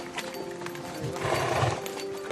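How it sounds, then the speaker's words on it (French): Two draft horses move along with soft hoof clip-clops and a brief whinny, close and moderately loud over a short outdoor stretch. "on va prendre les deux chevaux"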